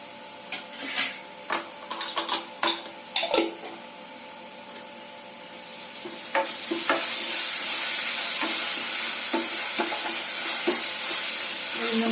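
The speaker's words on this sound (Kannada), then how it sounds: "ಜಿಂಜರ್ ಗಾರ್ಲಿಕ್ ಪೇಸ್ಟ್ ಫ್ರೈ ಮಾಡ್ಕೊಳ್ಳೋಣ" Ginger garlic paste hits onions frying in a pan for a mushroom paneer curry: first a few sharp spoon taps and scrapes, then a sustained close sizzle with occasional stirring clinks.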